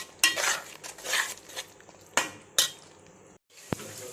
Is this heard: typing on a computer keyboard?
no